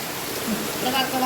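Steady rain falls on a water-covered home yard, a broad, even hiss that swells slightly toward the end.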